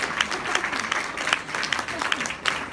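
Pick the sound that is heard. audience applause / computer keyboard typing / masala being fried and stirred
audience applause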